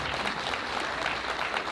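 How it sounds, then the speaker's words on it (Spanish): Steady, dense clapping from wedding guests for the groom Rafael and his mother, a continuous burst of applause with no voices on top. "un fuerte aplauso para la mamá del novio y el novio Rafael"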